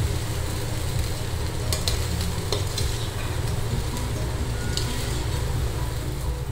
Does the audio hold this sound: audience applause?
no